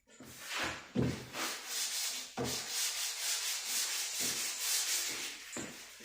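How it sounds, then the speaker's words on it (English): A Glasstek fiberglass hood is sanded by hand with sandpaper on a block, producing close, continuous rasping strokes in a steady back-and-forth rhythm, with no voices. "Let the sandpaper, let the block do the work."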